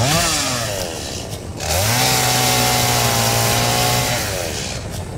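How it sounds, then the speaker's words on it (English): A chainsaw cuts in the video game Satisfactory, a loud, close buzzing whine that revs up, holds steady and then winds down. "chainsaw."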